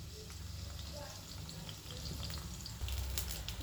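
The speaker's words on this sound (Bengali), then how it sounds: "কেটে রাখা পটলগুলোকে খুব ভালো করে লাল লাল করে ভেজে নিতে হবে।" Cut pointed gourd (potol) frying in oil, a faint steady sizzle with soft crackles and a low background hum, quiet throughout.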